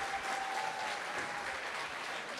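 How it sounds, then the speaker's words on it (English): A community talent show audience claps steadily for a performer, a continuous, even wash of applause with no voices over it. "Give her a round of applause"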